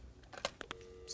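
A telephone is dialed, with a few short, distinct keypad tones sounding in quick succession at moderate volume against a quiet background.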